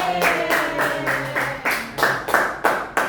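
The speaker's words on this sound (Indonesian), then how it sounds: "Tepuk tangan buat kita semua." Students and a teacher applaud in a school classroom, a busy run of clapping with rhythmic bursts and faint background tones.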